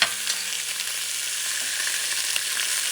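A Puerto Rican sofrito for chicken breast stew sizzles loudly in a pan, a constant bright frying hiss with faint stirring, and no one speaks.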